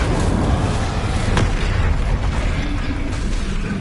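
Incendio fire spell blasting in Hogwarts Legacy combat, a loud sustained roaring rumble with a sharp burst near the middle, dense low booming throughout and no voices.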